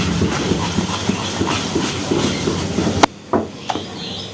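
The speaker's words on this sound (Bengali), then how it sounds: "এটাকে ভালো করে নাড়তে হবে।" Coconut and date jaggery filling is stirred in a pan with steady, rhythmic scraping strokes, close and continuous, then the stirring stops and a few isolated clinks follow in near quiet.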